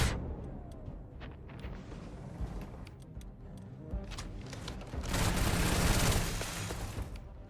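Video game gunfire crackles in scattered bursts of sharp shots over a dense rumbling backdrop, swelling into a heavier, sustained volley near the end.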